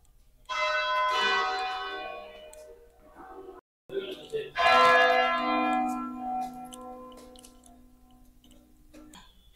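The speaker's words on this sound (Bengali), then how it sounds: "ঘন্টাটা বাজলে শুনলে?" A church bell at Bandel Church, tied to the hands of the tower clock, rings in loud resonant strokes nearby, each long tone decaying slowly, with a short gap between two clusters of strikes and faint voices.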